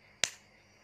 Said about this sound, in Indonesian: Dan ketika tepukan lemah,